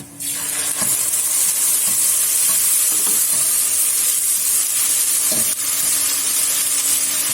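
Grated tomato hits frying onions in a hot pan, bringing a loud, continuous hissing sizzle with occasional stirring knocks throughout.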